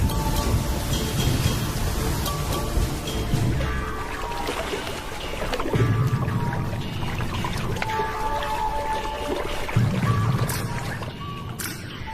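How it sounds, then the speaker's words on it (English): Rain falls steadily in the African wild, the first real rains in a year, a dense hiss of drops on surfaces with some heavier splashes, continuous throughout and no voices. "The first real rains for a year."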